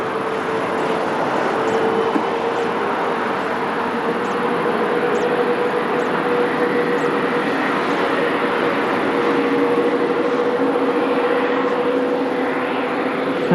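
An Airbus A330 airliner at Lisbon Airport gives off a steady distant jet engine roar with a faint whine on top, holding even and unbroken throughout, with no voices.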